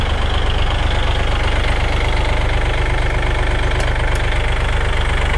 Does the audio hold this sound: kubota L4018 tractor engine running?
yes